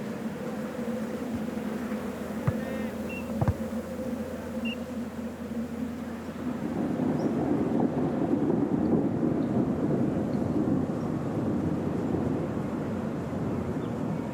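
A thunderstorm on the Altiplano, with a low continuous rumble of distant thunder over a windy outdoor backdrop, a couple of sharp cracks early on, and a broader, louder rolling wash in the second half.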